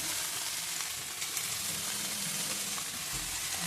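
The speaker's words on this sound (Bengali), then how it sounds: "এই যে আলুটা ভাজা হচ্ছে এখনো" Potatoes, tomato and chopped green chilli fry for a dried fish curry, giving a close, continuous sizzle with a faint stir now and then, and no voices.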